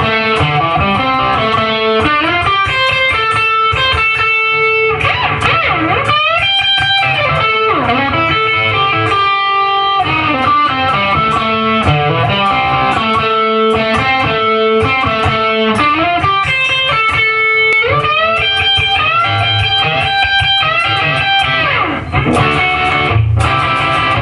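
Electric guitar solo, played loud and continuous with bright, lightly driven tone, fluid bends and melodic lines over a sustained backing.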